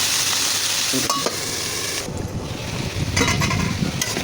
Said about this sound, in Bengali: করলা ভাজি করতে বেশি সময় লাগে না